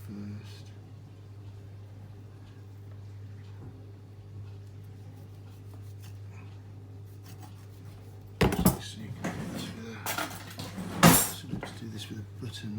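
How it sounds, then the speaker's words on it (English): Beef short ribs having their membrane scraped off with a butter knife, a steady low hum for several seconds, then sharp metallic scrapes and clinks near the end. "I'm going to take the membrane off."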